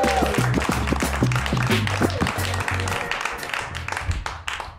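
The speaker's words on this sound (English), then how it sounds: "a big round of applause for Ty Riggs" Audience applause for a comedian at a Chicago comedy showcase, loud and sustained, with a low music bed thumping underneath. The clapping tapers off toward the end.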